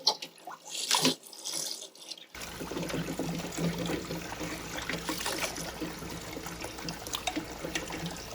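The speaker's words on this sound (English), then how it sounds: "It's running water, so we good." Tap water runs into a kitchen sink over snow crab legs, a steady close splashing stream that starts abruptly after a few quiet seconds of faint clatter, with no talk.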